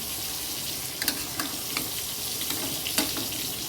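Quartered tomato frying in a pan of curry, a steady close sizzle broken by soft stirring scrapes and small clicks of the spoon.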